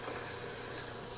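Sandpaper rubs steadily against the edges of a wood-turned ring on a lathe, a continuous broad hiss that holds evenly for about a second before cutting off.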